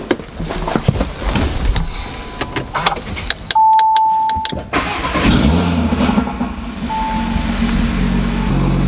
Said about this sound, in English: I'm just going to quickly start the car so you guys can hear how it sounds on the cold start